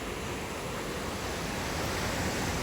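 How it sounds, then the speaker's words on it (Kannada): Steady broadband rushing of sea waves on a rocky beach, like surf, constant and even throughout, with no breaks or distinct crashes. "ಸಮುದ್ರದ ಅಲೆಗಳನ್ನ ಕೇಳ್ತಾನೇ ಇರ್ಬೋದು"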